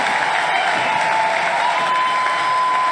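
Sustained applause and cheering from a large crowd at CPAC after Viktor Orban's speech, a steady dense roar of clapping held at full loudness throughout with no pauses.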